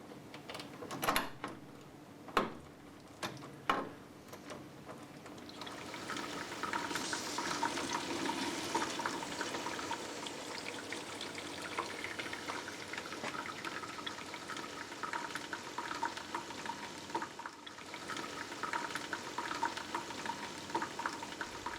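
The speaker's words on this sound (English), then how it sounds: "connect in my hose in there and bleed the water off through there" Water drains steadily from a bleed hose on a loop leg of a hybrid VRF system into a bucket during water-side commissioning, a continuous rushing trickle. It starts after a few faint clicks and runs on alone.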